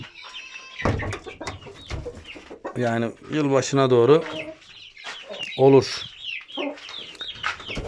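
Aseel rooster clucks and low crowing calls repeat close by, mixed with someone talking intermittently throughout.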